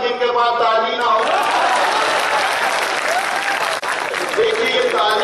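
Loud, sustained applause from a crowd at a Hindi poetry recital, dense clapping filling the whole stretch while voices carry on underneath.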